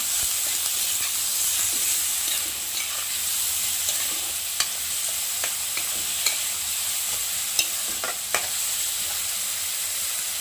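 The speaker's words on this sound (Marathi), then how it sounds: "आपल्या भाज्या चांगल्या तेलामध्ये परतून झालेल्या आहेत." Vegetables sauté in hot oil with turmeric and salt for a spicy shev breakfast dish, a continuous loud sizzle with occasional scrapes and clicks of stirring.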